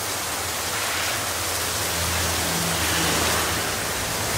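Heavy rain pours down outdoors as a dense, steady hiss that fills the scene loudly with no pauses, with a faint low hum joining partway through.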